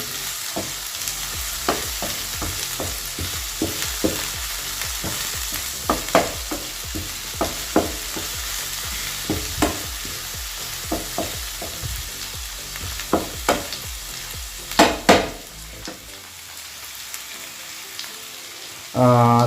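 Food frying in a pan for a homestyle Kerala curry is stirred steadily, a constant close sizzle broken by repeated scraping and clacking strokes of the spoon, ending with a louder clatter.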